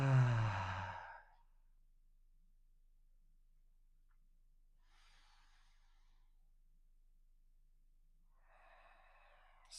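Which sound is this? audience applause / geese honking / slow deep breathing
slow deep breathing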